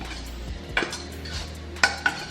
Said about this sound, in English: We're gonna put our noodles in here.